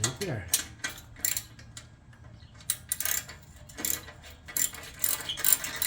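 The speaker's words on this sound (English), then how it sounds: "So again, just loosening this heat shield here." A ratchet clicks in quick bursts of rapid pawl ticks, close and fairly loud, while loosening the exhaust heat shield on a 2013 Harley-Davidson Super Glide fitted with Vance and Hines Straight Shot slip-ons.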